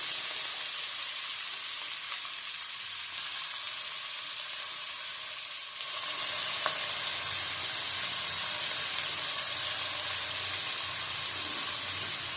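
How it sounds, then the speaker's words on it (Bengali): Onions and green chillies sizzle in hot oil in a pan for a Bengali chicken kosha, a steady, close frying hiss that grows slightly louder midway and continues alone without talk. "পেঁয়াজ দিয়ে দিলাম পেঁয়াজ লঙ্কা সব ফাটিয়ে দিয়েছি"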